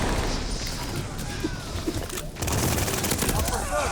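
Thompson M1928 submachine gun firing in Call of Duty: Vanguard, rapid bursts of automatic fire amid other battlefield gunfire, with a voice talking over it.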